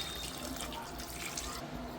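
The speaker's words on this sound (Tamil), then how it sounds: "எனக்கு வந்து குழம்புக்கு தேவையான அளவுக்கு நான் வந்து தண்ணி ஊற்றிக்கிறேன்" Water poured from a vessel into a pot of country chicken curry, a short steady splashing and trickling stream heard close up.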